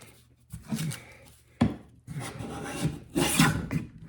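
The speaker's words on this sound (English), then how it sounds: "We're not planing the right way." A hand plane shaves a wooden board in short bursts: three or four loud, rasping strokes close by, separated by brief pauses, with no talk.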